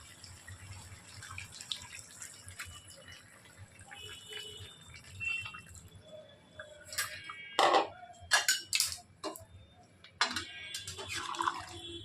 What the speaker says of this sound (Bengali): ওই গরম জলটা আমি ভালোভাবে সেদ্ধ হওয়ার জন্য ঢেলে দিচ্ছি